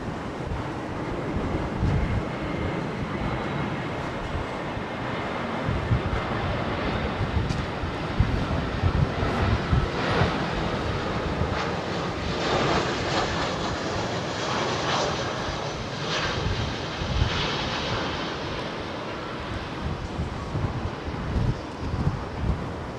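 Aer Lingus airliner at Heathrow Airport, its jet engines roaring steadily for a long stretch at moderate distance, with wind buffeting the microphone.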